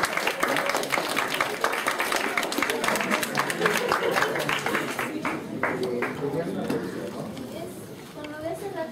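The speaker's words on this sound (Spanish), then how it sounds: "Démosle por favor un aplauso a sus compañeros para que terminen." Classmates applaud students in a lecture hall, a rattling spread of clapping that is strongest early and thins toward the end while voices chatter over it.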